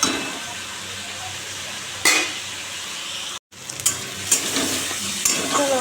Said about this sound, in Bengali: শুকনো লঙ্কা কালো জিরে ফোড়ন দিয়েছি বসিয়ে দিলাম